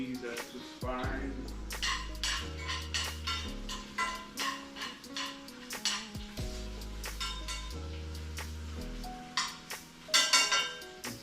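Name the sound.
stirring onions in a cooking pan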